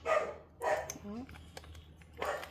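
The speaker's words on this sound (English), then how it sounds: "there's the puppies. Go barking." Puppies bark and yip in short bursts mixed with people talking nearby, a low steady hum running underneath throughout.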